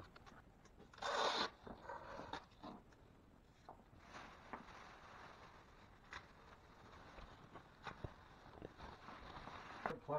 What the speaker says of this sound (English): I am gonna put a plastic curtain up just so I don't get dirt all over their live-in kitchen